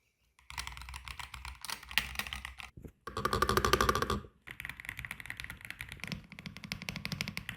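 Loud, sharp clicking of an AULA WIN68HE mechanical keyboard's keys in rapid bursts, close up, with short pauses between flurries of typing.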